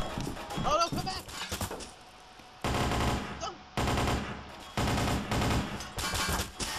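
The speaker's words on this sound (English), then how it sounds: "Oh, shots fired!" Rapid bursts of gunfire in the Trouble in Terrorist Town video game, several loud clusters of shots separated by brief pauses, with excited talk and shouting at the start.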